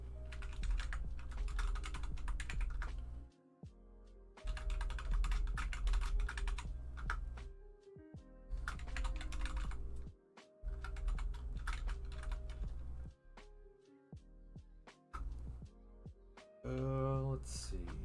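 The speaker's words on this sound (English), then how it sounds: "I'm going to start typing in names." Names being typed on a computer keyboard, a steady run of quick clicking keystrokes in bursts with brief pauses, close and fairly loud over low background music.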